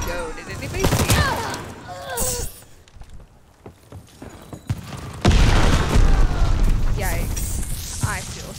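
A rocket explodes amid gunfire in Call of Duty Vanguard: sharp cracks and booms come early, then a big blast lands midway, followed by rumbling battle noise and a voice talking.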